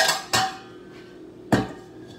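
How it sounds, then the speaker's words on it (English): A metal cake pan being tapped to spread flour around it for a vanilla butter cake gives two sharp metallic knocks about a second apart, close and fairly loud, with a faint ringing after each. "dust the flour around the pan"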